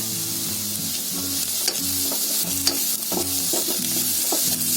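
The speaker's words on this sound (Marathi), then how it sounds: "आता मी कांदा मिरची आहे ना चांगली 2 मिनिटं फ्राय केले" Onion and green chilies frying in butter, giving a steady, close sizzle broken by regular rhythmic thumps and scrapes of a stirring spoon.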